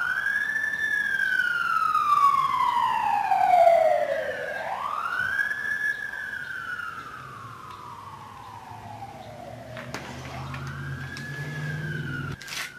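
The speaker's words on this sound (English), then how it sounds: "this is like the third siren I've heard go by in the last couple minutes here" An emergency vehicle siren passes by, loud and sweeping up and down in long wailing cycles that shift pitch as it moves, with traffic rumble underneath and no talking.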